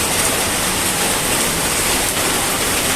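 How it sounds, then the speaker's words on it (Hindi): Heavy rain pours steadily over the Kolkata Medical College campus, a dense, loud, unbroken hiss of downpour hitting surfaces nearby with no pauses. "पिछले 2 घंटे से बहुत जोर बारिश हो रही है।"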